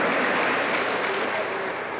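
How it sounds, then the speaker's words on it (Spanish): A church congregation applauds in a dense, steady wash of clapping that fills the room at moderate loudness, with faint voices mixed beneath. "Aplauso para el Señor Jesús."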